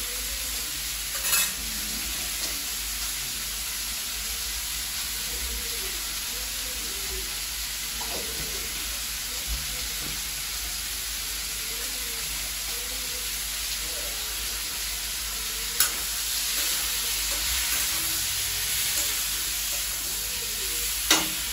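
Chicken with ginger paste sizzles loudly and evenly in a pan, with occasional clacks and scrapes of stirring and faint murmuring speech under the frying.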